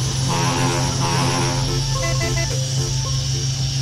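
A Hino 500 self-loader truck carrying an excavator labours up a steep climb in Euro Truck Simulator 2, its engine a loud, steady, droning roar without a break and no voices over it.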